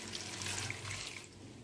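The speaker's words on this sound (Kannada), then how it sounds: "3 ಲೋಟ ನೀರನ್ನು ಹಾಕೊಂಡಿದ್ದೀನಿ." Three glasses of water poured into a cooking pot of mixed vegetables with cauliflower; a short, soft splashing rush of liquid heard alone.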